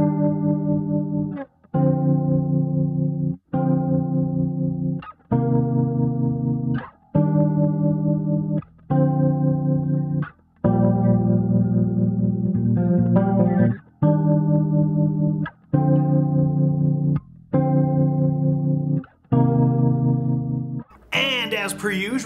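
A bass guitar played through a TC Electronic JUNE-60 chorus pedal repeats a series of sustained, shimmering chorused notes about every two seconds, loud and close with no voices.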